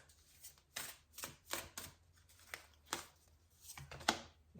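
Oracle cards are handled and drawn one by one, producing soft, close slaps and riffles in an uneven sequence of short bursts, faint and quiet with no voices.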